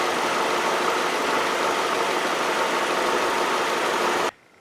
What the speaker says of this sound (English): when I started up the vehicle, I had some pretty chattering lifters